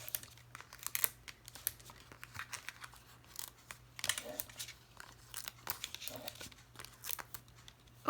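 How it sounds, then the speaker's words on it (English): Dimensional adhesive foam pads are peeled and pressed onto the back of a Stampin' Up! card, making faint, close crinkling and tearing sounds of backing paper in irregular small bursts over a low steady hum. "Then I'm going to add some dimensionals to the back."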